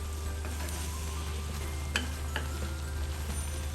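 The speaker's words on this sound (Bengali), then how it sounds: "এখন আমি একটু নাড়াচাড়া দিচ্ছি" Prawn curry with water lily stems frying in a pan as it is stirred, a steady sizzle with a few sharp scraping clicks of the spoon against the pan.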